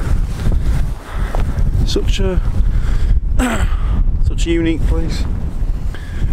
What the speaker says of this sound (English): Bloody windy up here